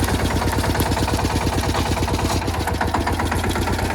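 A tractor engine runs steadily in a farm field, a loud, close, continuous diesel throb with an even low pulsing rhythm and no voices.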